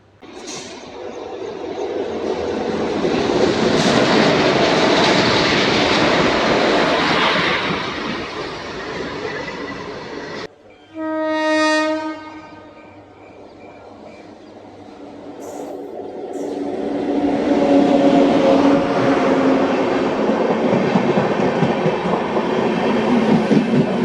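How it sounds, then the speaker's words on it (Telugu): An AC special train running from Yesvantpur to Bhubaneswar rolls past a station platform, a loud sustained rumble of wagons that breaks off midway, followed by a brief horn-like tonal blast and then the rolling noise building up again. "అక్కడ వెళ్తున్న ట్రైను యశ్వంతపూర్ నుంచి భువనేశ్వర్ వెళ్ళే AC స్పెషల్ ట్రైన్"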